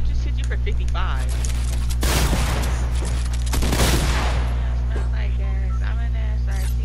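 Heavy shotgun blasts in a video game, two loud broadband bursts close together mid-clip over a steady low hum, with voices chatting around them.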